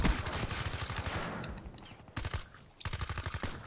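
Rapid automatic gunfire in the video game Black Ops 3, loud bursts of shots with short gaps and a brief lull before firing resumes.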